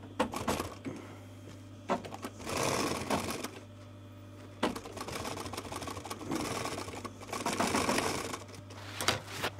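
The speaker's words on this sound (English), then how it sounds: "I'll sew it up to there, I'll leave the needle in, lift the foot up, and then turn the fabric." Sewing machine stitching VW T5 Transporter seat cover fabric, working in several bursts of rapid mechanical running with short pauses between them while the operator turns the fabric at a curve, close and steady with a constant motor hum underneath.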